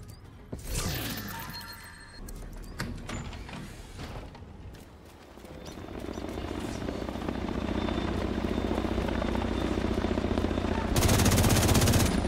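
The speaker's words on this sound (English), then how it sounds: "Big ass chopper." A helicopter in the video game The Division 2 roars with a steady, growing rotor drone amid bursts of gunfire and clattering action sounds, loud and building toward the end.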